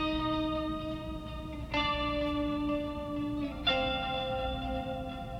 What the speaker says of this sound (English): I just added a chorus effect and some reverb and delays.